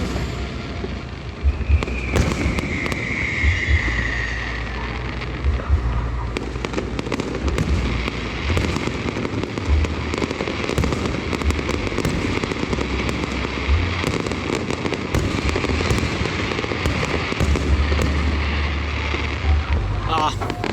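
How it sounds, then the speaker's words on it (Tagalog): A nearby fireworks show over Abiliana keeps up a dense, ongoing barrage of cracks, pops and deeper booms for about twenty seconds, mixed with wind buffeting the microphone and faint voices talking. "Kasi sobrang lapit lang po ng fireworks dito sa Abiliana."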